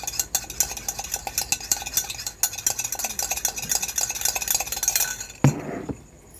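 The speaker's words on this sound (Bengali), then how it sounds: "কফিটাকে একটু ফাটিয়ে নেবো, সামান্য" Coffee and sugar beaten briskly in a cup with a spoon, a fast steady run of clinking, scraping strokes up close that stop abruptly near the end, leaving only a short knock and quiet.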